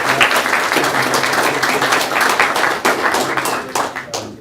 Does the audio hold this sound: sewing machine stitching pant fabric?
no